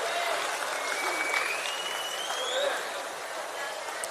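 An audience at a prize-giving ceremony claps for a winner receiving a 50,000 rupee award, a steady, even wash of applause throughout with a faint tone drifting above it.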